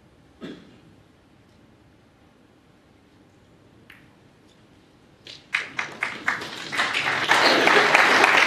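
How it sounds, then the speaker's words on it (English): Applause breaks out from the audience at a 2023 World Championship snooker match, beginning after a few scattered claps and swelling into a dense, steady round near the end following a quiet stretch. "Nice round of applause."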